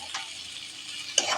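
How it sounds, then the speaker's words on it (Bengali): Potatoes stirred into masala frying in plenty of oil in a pan, a steady close sizzle with scraping stir strokes and a louder burst of spatter near the end. "এবার আলুটাকে ঢেলে দেব। খুব ভালো করে মশলার সাথে মিক্স করে নেব।"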